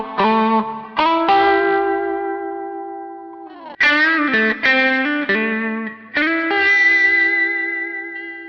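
Electric guitar chords run through a Mode Machines Krautrockphaser in manual mode, giving a fixed, swirling phased tone; three sustained chords ring out and decay, loud and upfront with no voices.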